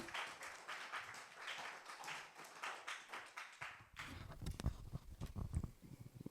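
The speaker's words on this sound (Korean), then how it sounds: "나오실 때 큰 박수로 환영하시겠습니다." A youth congregation at a Sunday church service applauds to welcome a speaker forward, steady massed clapping that gives way to scattered nearer claps and taps, fairly faint overall.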